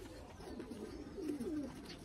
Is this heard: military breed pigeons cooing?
yes